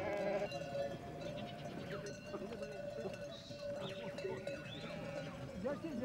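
A flock of sheep bleating repeatedly as they crowd into the milking pens of a mountain sheepfold, several animals calling over each other at close range amid shuffling hooves and voices.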